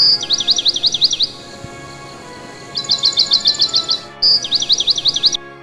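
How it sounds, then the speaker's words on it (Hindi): Bird chirps in quick trilling bursts, three clear rapid chirping phrases separated by brief pauses, close and fairly loud against a quiet background, with no voices. "चिड़िया ने अपनी पंख फैलाए और उड़ने का इशारा किया।"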